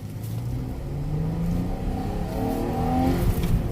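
Stock Ram 1500 pickup with a V6 engine and factory exhaust, revving steadily and loud up close, its low droning tone rising and swelling over a few seconds with no talking.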